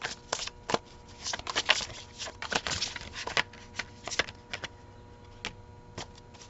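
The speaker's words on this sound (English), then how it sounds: "Silence, we will shuffle." A tarot card deck being shuffled, with repeated quick riffling and flicking bursts of card noise at close range, alone with no talk.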